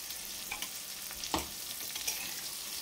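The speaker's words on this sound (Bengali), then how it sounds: "2 থেকে 3 মিনিটের জন্য আমরা লতিটাকে হাই ফ্লেমেই ভেজে নেব" Taro stolons with mustard and green chili paste fry over a high flame, a faint, soft sizzle with a few light stirring scrapes and one brief clack, quiet and without talk.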